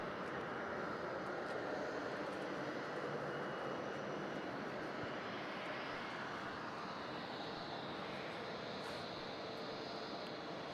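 A China Eastern airliner taking off from runway 34 at Melbourne Airport at night, a steady broad engine roar heard from a distance, fairly faint and constant throughout with no speech.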